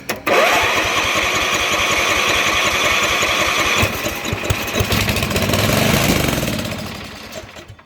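Murray riding mower engine on choke cranks and catches, then runs loud and rough with a fast chugging beat, its pitch wavering and surging before it dies down near the end.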